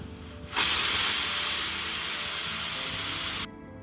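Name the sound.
pressure cooker whistling and releasing steam on the stove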